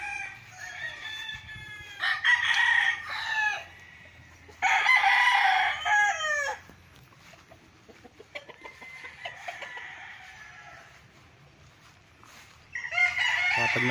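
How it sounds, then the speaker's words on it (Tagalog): Roosters crow repeatedly on a farm lot, several long, loud calls in separate bursts, with softer clucking from the chickens between them and faint background hum. "So ang gaganda ng mga manok dito."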